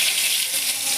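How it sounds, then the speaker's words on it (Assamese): Onions dropped into hot oil sizzle and fry steadily in a pan while jackfruit-seed curry is prepared in a home kitchen, a continuous close hiss with no voices. "মই ইয়াতে এতিয়া পিঁয়াজ দি দিলোঁ"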